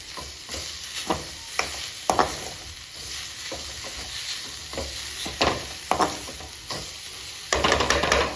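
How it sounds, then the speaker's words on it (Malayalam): Salt and curry leaves are stirred in a frying pan for a Kerala banana flower and cowpea thoran. A spoon scrapes in rhythmic strokes over a steady sizzle, ending in a quicker flurry of stirring. "എന്നിട്ട് നല്ലവണ്ണം ഒന്ന് ഇളക്കി കൊടുക്കണം."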